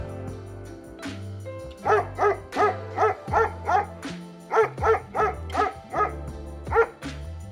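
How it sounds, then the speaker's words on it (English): Dog barking sound file from the game Enemy Territory: a run of about a dozen evenly spaced, clear barks, close and loud, over a low steady hum, with no voices. "Another classic is dog."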